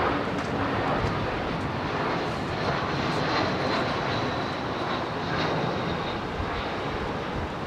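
An aircraft engine roars steadily and loudly at windy Heathrow Airport, a broad continuous rumble with no voices.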